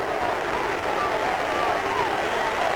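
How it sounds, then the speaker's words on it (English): Baseball stadium crowd at a 1985 Chicago Cubs game at Wrigley Field in Chicago, a steady, dense roar of cheering and applause for Pete Rose as he bats, sustained and loud throughout with no lulls. "Listen to this crowd."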